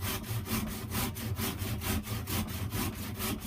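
A hand saw cuts a small piece off a length of wood, with fast, even back-and-forth strokes, close and loud, about four per second.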